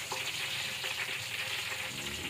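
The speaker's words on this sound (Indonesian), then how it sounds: "masih goreng telur" Eggs frying in a pan in a home kitchen, a loud steady sizzle and crackle of hot oil that fills the whole moment with no speech.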